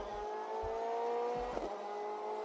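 An Audi DTM touring car from the 2000 season idles and hums in the DTM Experience racing game at Hockenheim, a steady engine drone with sustained tones and a faint low pulsing beneath, no speech over it.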